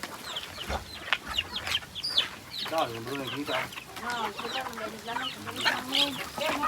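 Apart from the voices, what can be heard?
chickens clucking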